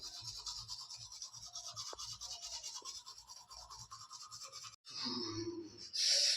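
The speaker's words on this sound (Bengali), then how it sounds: "তাড়াতাড়ি ব্রাশ করো" Close, steady scrubbing of a toothbrush on teeth continues throughout, followed by a brief pause and a louder, brisker stretch of brushing at the end.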